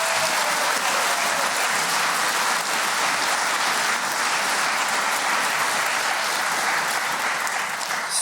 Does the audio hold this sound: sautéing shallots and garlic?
no